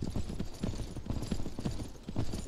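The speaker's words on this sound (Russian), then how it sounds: "Твой конь застрял." Horse hooves clip-clop steadily in Myth of Empires, a rhythmic series of fairly loud, close hoof strikes on the ground with no talk over them.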